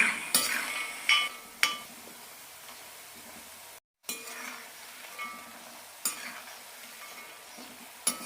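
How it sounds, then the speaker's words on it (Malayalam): Besan pakoda deep-frying in oil over a low flame, a continuous sizzle broken by repeated sharp clinks of a utensil against the pan during stirring, with a brief silent cut midway and no voices. "ലോ ഫ്ലെയിമിലേക്ക് തന്നെ വറുത്തെടുക്കണം അപ്പോഴാണ് നല്ല ക്രിസ്പി ആയിട്ട് കിട്ടുള്ളൂ"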